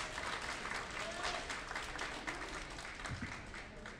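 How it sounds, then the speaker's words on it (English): Sustained crowd applause for volunteers at a robotics qualifier event, a steady, dense roar of many hands clapping in a large, reverberant venue, continuous and fairly distant throughout. "Please give a big round of applause for all the volunteers"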